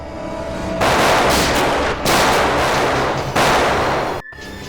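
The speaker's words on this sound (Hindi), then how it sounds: "सीआईडी के ऊपर गोली चलाने का अंजाम जानती हो तुम?" Gunfire in a scene from the CID TV crime drama, three long loud bursts of rapid shots in close succession with a short break between each, ending abruptly.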